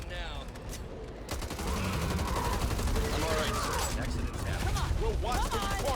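Rapid gunfire rattles in the zombie shooter game Back 4 Blood, dense continuous bursts with clanking mechanisms under excited voices of players talking.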